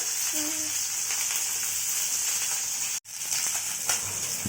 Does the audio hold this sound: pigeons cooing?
no